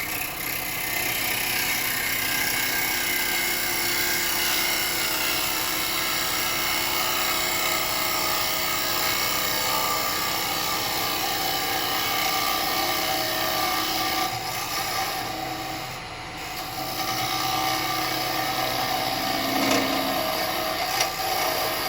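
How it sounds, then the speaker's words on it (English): A square chisel cuts a beech dish spinning on a wood lathe, producing a continuous, loud whirring hiss with a steady rough texture that barely dips throughout, no voices heard. "I'm going to go back to the square chisel for a minute."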